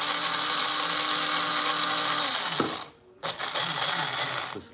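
A small kitchen grinder whirs steadily while grinding food, winding down around the halfway point, stopping briefly, then buzzing back up; no talking.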